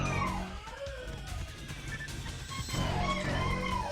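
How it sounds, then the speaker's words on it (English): Several dogs bark, yip and whimper in an adjacent room, muffled but lively, with overlapping barks and whines in an excited burst across the whole stretch. "God, the dogs are going bananas in the next room."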